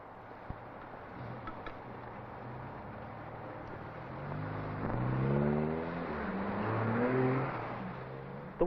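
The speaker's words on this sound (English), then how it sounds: "The sound of the traffic stopping means that it's safe to cross the road." Road traffic at a street crossing, a car engine droning close by and rising in pitch as it works, over a steady hum of other vehicles, with no talking.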